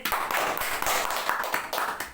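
Hearty clapping welcomes a teacher, a quick run of individual claps heard fairly close and a little uneven, with no talk over it.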